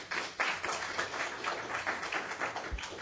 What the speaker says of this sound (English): if we could restrain from applause and that kind of thing